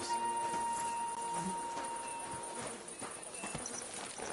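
A horse in Kingdom Come Deliverance 2 plods along with soft, steady clip-clopping hooves under a faint town ambience and a low steady hum.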